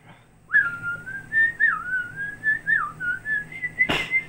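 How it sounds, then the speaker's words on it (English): A person whistles a wavering, sliding tune for several seconds, close and clear, and a short burst of breath or noise cuts in near the end. "How do you whistle?"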